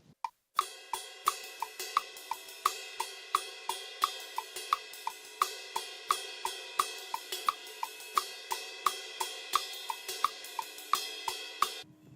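A steady drum groove on a ride cymbal from the bridge of a song, crisp repeated pings in a syncopated rhythm with lighter strokes between, sounding alone at moderate loudness.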